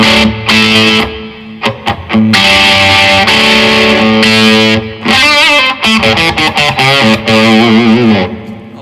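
A loud electric guitar plays sustained chords and quick picked notes through a Blackstar HT20 Mk2 valve amp on its clean channel, pushed, a full, slightly driven tone with brief pauses between phrases.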